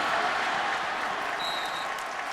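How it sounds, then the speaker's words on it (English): Football stadium crowd at Texas A&M versus Mississippi State in College Station applauding a senior, a broad distant wash of clapping and crowd noise with a faint whistle-like tone midway. "Crowd appreciates the senior, Funky Ben Molina."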